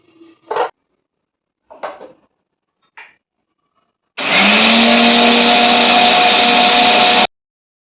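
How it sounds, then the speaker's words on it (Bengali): A few clattering knocks of kitchen utensils come first, then a mixer grinder roars loudly and steadily for about three seconds while grinding garlic into paste before cutting off abruptly. "এগুলো সব পেস্ট করে নেব পেস্ট করে আর মিক্সিটা খোলা যাবে না"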